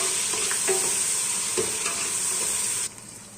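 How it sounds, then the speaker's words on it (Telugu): Onion, garlic paste and ginger paste frying in a pan, a steady loud sizzle with a few scraping stirs, close up, then the sizzle drops suddenly near the end. "తెల్లగడ్డ పేస్ట్ అంతా ఫ్రై అయిపోయిన తర్వాత ఇందులో మ్యాగీ వేసుకోవాలి"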